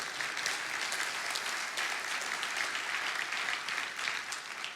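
A church congregation applauds together in sustained, dense clapping that stays steady and fairly distant throughout, with no voices standing out.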